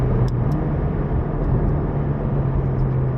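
A car braking and changing down through a racetrack chicane, heard as a loud steady engine rumble and drone, close and continuous with no talking.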